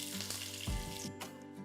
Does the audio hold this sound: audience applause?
no